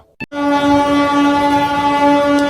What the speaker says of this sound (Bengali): মালগাড়ি আছে, মালগাড়ি দেখছে।